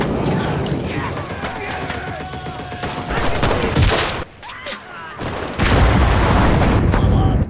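Video game gunfire in the shooter Enlisted: dense overlapping rifle and machine-gun bursts with distant booms, continuous and loud across the whole stretch, briefly thinning in the middle before swelling again.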